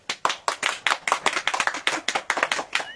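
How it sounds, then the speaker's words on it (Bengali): Steady rhythmic clapping from a small group, about four to five sharp claps per second, close and clear with no voices over it, greeting the place winners announced at a saree and kurti sale. "হাততালিটা আপনারা শুনছেন?"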